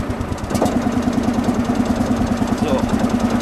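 An old diesel tractor, started by glow plug at a vintage tractor meet, runs at a loud, close, steady idle with a rhythmic knocking chug, some voices faintly mixed in.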